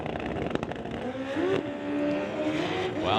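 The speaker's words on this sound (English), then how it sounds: "Henkult having trouble off the start line, not able to get the bike to launch hard" A street-legal drag racing motorcycle with engine modifications struggles to launch hard off the start line, its engine revving loud and rough, with crackle and a rising whine near the end.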